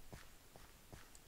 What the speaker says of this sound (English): there's footsteps and whatnot